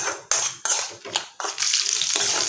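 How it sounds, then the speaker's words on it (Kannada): Cashews and almonds frying in ghee in a pan, a bright continuous sizzle broken by scraping stirs and clinks, close and loud with no talking. "ಎರಡೂ ನಾನೀಗ ಚಲೋತ್ನಂಗೆ ತುಪ್ಪದಾಗನ ಫ್ರೈ ಮಾಡ್ಕೋತೇನಂತ"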